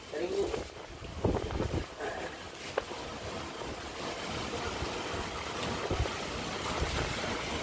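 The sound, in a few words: strong sea waves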